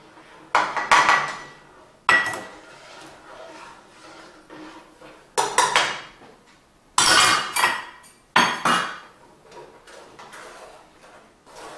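Soap mixture in a pot being stirred after washing soda and borax are added, heard as a run of sharp clattering knocks and scrapes of a utensil against the pot, arriving in loud bursts separated by short quieter gaps.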